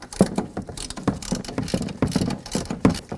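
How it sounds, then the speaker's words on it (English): A ratchet removes the front strut mounting nuts on a 2007-2017 Ford Expedition, giving close, repeated bursts of fast clicking in uneven strokes with brief pauses between them. "Now we're going to go ahead and remove those 3 mounting nuts."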